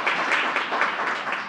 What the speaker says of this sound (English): I think everyone should give him a round of applause for putting this together